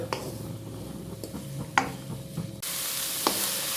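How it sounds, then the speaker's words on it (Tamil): Chopped onions with salt sizzling and hissing in a hot pan, with occasional scrapes and clinks of a spoon stirring; the sizzle grows louder and steadier near the end. "இந்த வெங்காயம் வதங்கிறதுக்கு தேவையான அளவு உப்பு சேர்த்து இதை நல்லா வதக்கி விட்டுக்கலாம்."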